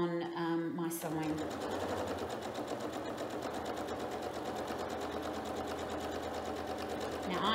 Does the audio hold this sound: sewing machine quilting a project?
yes